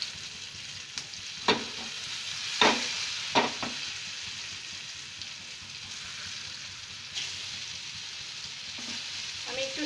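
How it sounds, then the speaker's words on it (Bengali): Balls of matar dal (split pea lentils) fry in hot white oil with a soft, steady sizzle and occasional sharper pops and spatters, close but fairly quiet, with no voices. "এবারে তেলটা গরম হয়ে গেলে এর মধ্যে এই গড়ে রাখা বলগুলো আমি একটু ফ্রাই করে নেব।"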